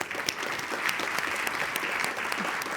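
An audience at an EU agri-food conference session claps steadily in welcome, a dense, even round of applause from a roomful of hands with no talking over it.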